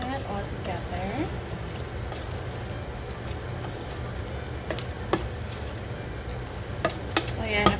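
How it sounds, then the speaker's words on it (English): Lao minced pork salad (larp moo) mixed by hand in a bowl, giving a continuous wet rustling and squelching texture, with a few sharp clinks near the end and a voice speaking now and then. "Mix that all together."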